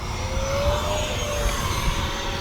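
A radio-controlled F-16 Falcon model jet flies overhead, its steady ducted-fan whine holding as a continuous broad rush with a faint tonal hum, loud and unbroken throughout with no talking.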